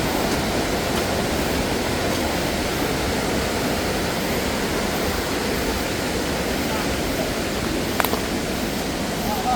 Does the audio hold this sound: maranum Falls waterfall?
yes